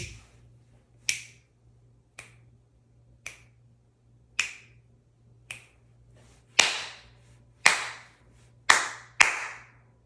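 Sharp hand claps in a quick rhythmic pattern of eighth notes, about ten crisp claps with short pauses, growing louder toward the end over a faint hum.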